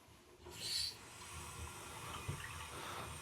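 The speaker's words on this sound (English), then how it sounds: "open up the cold valve here, and then I'm gonna flush any remnants if we got any remaining sediment" Water rushes through a water heater from an opened cold supply valve, flushing out leftover sediment: a steady hiss of flow with a brief louder surge near the start, then a continuous moderate rush.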